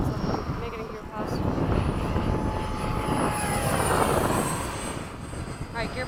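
An FMS 70mm RC F/A-18 jet makes a gear pass, its ducted-fan whine rising and falling as it flies by at moderate distance. A voice talks over it, and wind buffets the microphone.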